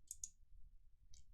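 Computer mouse clicks sound crisp and faint against quiet: two quick clicks close together, then a third a second later.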